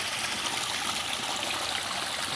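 Steady water running and splashing during a weekly water change in a catfish tank, a close, continuous broadband rush with no talk.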